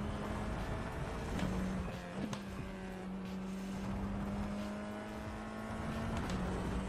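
Formula iR-04 race car engine in the iRacing simulator, a steady sustained drone holding a fairly constant pitch through a corner on Winton Motor Raceway, continuous and moderately loud with no talk over it.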